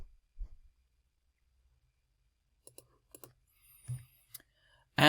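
Keys pressed on a CAS calculator keypad while entering calculus work, sparse small plastic clicks in short clusters with quiet gaps between them, close by.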